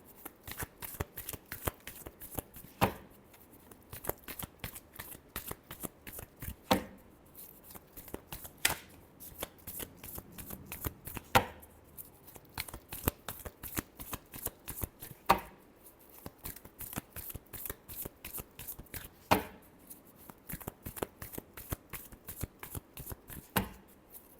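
Tarot cards are shuffled by hand over and over, with steady rapid riffling clicks and sharper periodic snaps that keep up an even rhythm throughout, close and fairly quiet.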